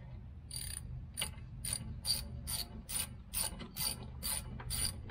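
A ratchet with a 13 millimeter socket on a Jeep Commander's rear brakes clicks in a steady rhythm of short metallic bursts, close up and fairly quiet, with no talking.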